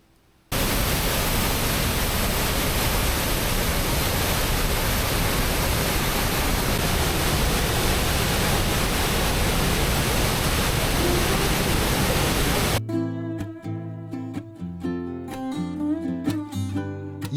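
Iguazu Falls on the Argentina–Brazil border roars as a loud, steady, unbroken wash of water for about twelve seconds, then cuts off abruptly and music takes over.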